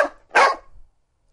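A dog barks twice, close and loud: a short first bark, then a stronger second one trailing off into silence.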